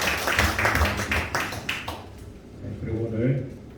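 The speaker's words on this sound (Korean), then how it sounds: "감사의 박수를 올려드리도록 하겠습니다" A church congregation claps in thanks to God, a brisk burst of many hands during the first two seconds, followed by someone speaking.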